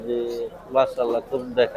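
Pigeons coo at the Tongi pigeon market in Bangladesh, where exhibition, Lahori and magpie birds are sold; short low throaty coos come in quick bursts close by, mixed with people talking.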